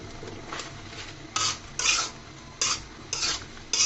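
Mango pickle chutney is stirred in a pot, several scraping, clinking strokes of a utensil against the metal in irregular bursts over a faint low sizzle, with no talking.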